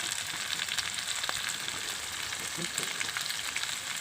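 Chopped ivy gourd frying in an open pan with turmeric and salt, a steady dense crackling sizzle throughout with faint scraping of stirring now and then.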